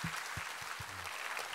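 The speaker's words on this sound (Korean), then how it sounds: "우리 하나님께 감사와 영광의 박수 올려드리겠습니다" Congregation in a Korean church service applauding together, a steady, soft wash of many hands clapping at a distance throughout, with no voices on top.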